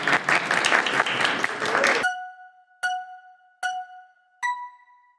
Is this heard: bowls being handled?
no